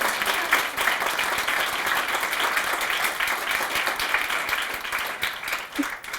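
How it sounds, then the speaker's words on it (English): An audience at a university conversation event gives a steady round of applause, with many hands clapping together at an even level throughout. "assertive Wildcat round of applause?"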